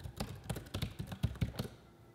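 Quick keystrokes on a computer keyboard typing a password on macOS, about eight close taps in an uneven rhythm, then quiet.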